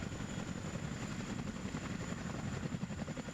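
A Chinook helicopter flies at the edge of the map in the wartime strategy game WARNO, its steady rotor thump and engine roar rumbling continuously at moderate loudness with no talking.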